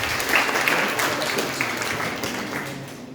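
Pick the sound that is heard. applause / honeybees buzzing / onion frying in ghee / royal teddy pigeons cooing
applause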